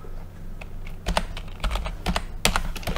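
Keystrokes on a computer keyboard, close and clear, come as scattered single taps and short quick bursts over a low steady hum, with no talking.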